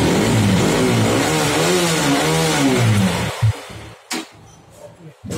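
Used superbike at a bike market in Karol Bagh, New Delhi, revving loudly with rising and falling engine pitch for several seconds, then dropping to a rough idle with a few short blips.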